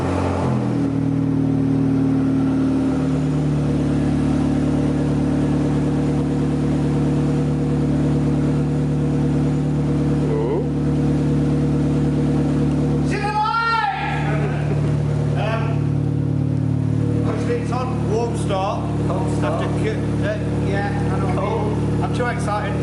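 A modified Vauxhall VXR with a loud exhaust running on a cold start, holding a deep, droning, steady idle throughout while people talk over it.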